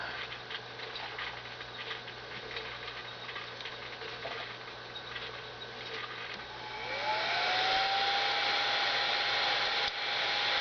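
A heat gun switches on partway through and whirs up to a steady, loud blowing hiss while shrinking heat shrink tubing around a meter pin. Before that, only quiet background fills the room.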